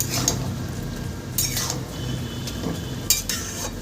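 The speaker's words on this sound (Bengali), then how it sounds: "সুন্দর করে আমি চালটা কষিয়ে নিচ্ছি" Rice being stir-fried with jackfruit in a pan for jackfruit biryani: intermittent scraping and clinking of a spatula against the pan, a few sharper clatters standing out over a quiet background.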